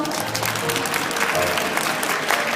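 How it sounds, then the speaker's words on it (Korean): A crowd at a Christmas celebration concert held by the Incheon YMCA applauds to open the show, steady, enthusiastic clapping filling the hall with scattered voices underneath. "박수 쳐주세요"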